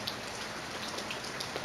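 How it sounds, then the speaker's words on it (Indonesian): Rain falls steadily on a calm morning in Australia, a dense, even hiss of drops with no voices. "Bunyi hujan, air di mana-mana"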